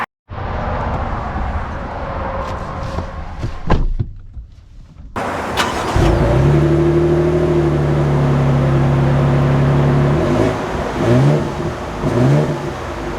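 A lifted 2025 Toyota Tundra Limited with the TRD Off-Road package pulls away, its engine note rising in steady tonal bands after a brief quiet start, loud and close with no talking.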